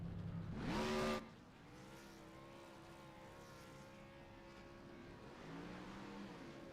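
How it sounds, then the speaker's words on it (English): Race cars in a NASCAR video game at Talladega Superspeedway roar through burnouts, opening with a short loud blast of tire-squealing noise, then a sustained droning engine tone that wavers and swells again near the end, no voices. "how about the front four doing burnouts?"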